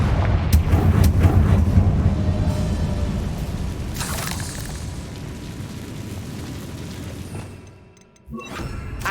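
A Confringo fire-blast spell in Hogwarts Legacy sets off a heavy booming explosion, followed by rumbling debris and crackling that slowly fades over several seconds, then a brief near-silence and a fresh burst of noise.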